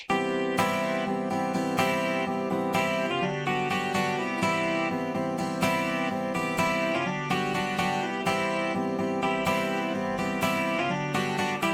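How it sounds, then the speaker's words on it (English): A clean electric guitar plays a steady, ringing riff alone, bright sustained notes repeating in a regular rhythm. "clean guitar that's panned to the center, it sounds like this"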